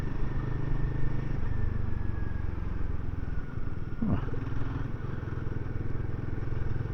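A 2024 Royal Enfield Guerrilla 450 single-cylinder motorcycle rumbles steadily while being ridden in low gear, its engine drone constant and close under wind noise, with no talking.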